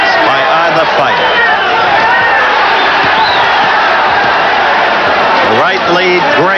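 A dense boxing-arena crowd roars and cheers loudly and continuously, with a steady wash of voices and whoops throughout.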